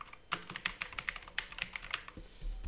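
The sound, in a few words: typing on a computer keyboard in Microsoft Word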